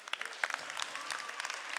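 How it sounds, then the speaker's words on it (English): An audience at a school performance of The Music Man applauds the parents, a dense burst of many clapping hands at steady moderate loudness, close and continuous for the whole moment. "So, a big hand clap for the parents."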